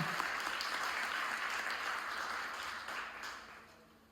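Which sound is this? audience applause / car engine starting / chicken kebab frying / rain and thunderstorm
audience applause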